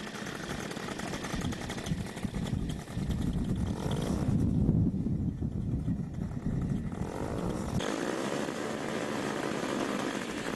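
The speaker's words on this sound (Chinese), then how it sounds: "发动机的轰鸣和螺旋翼卷起的尘土，把所有人的心纠结在了一起。" A homemade aircraft's engine and propeller roar, a loud continuous mechanical drone that rises and dips in pitch as it revs, heard alone without talk.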